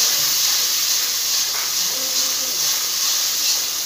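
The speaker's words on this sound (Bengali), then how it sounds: "মশলাটা ভালো করে কষাতে হবে।" Garlic-heavy spice paste with turmeric and salt sautéing in a pan gives a steady, close hiss that holds evenly throughout, with faint background sounds underneath.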